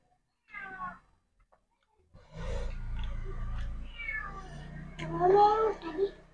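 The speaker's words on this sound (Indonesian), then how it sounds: "Suara meong." A cat meows a couple of times up close, with a household murmur and other sounds underneath the later calls.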